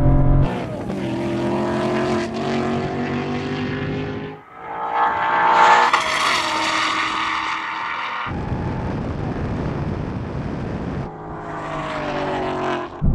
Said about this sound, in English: this car just dropped out the power band, it spun up its wheels, lost control